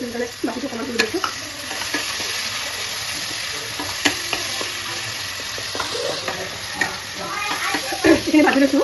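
Ginger-garlic spice paste fries in a pan with a busy sizzle and scraping stir clicks, loud and close, while a voice talks intermittently over the cooking.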